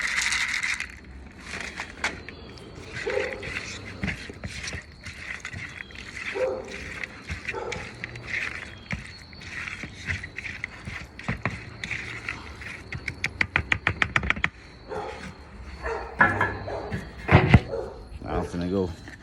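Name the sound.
dogs barking at feeding time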